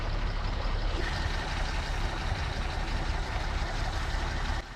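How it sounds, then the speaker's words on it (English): A large tractor hauls a buried tractor up from beneath a road, its heavy diesel engine droning steadily and loudly with deep rumble throughout, ending in a slight drop near the close. "the tractor was buried underneath the road and was being pulled up by a larger tractor"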